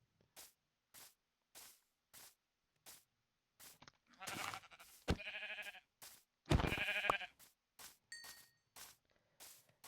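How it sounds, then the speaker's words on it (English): Sheep bleating in a cozy survival video game on easy mode, a few loud drawn-out bleats in the middle, set against a steady run of short regular footstep-like ticks throughout. "There's a sheep over there."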